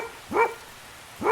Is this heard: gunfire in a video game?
no